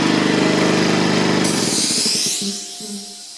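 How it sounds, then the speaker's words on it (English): An air compressor in a workshop runs with a loud, steady motor drone, then is switched off and winds down into quiet within a second or so. "turn off the compressor"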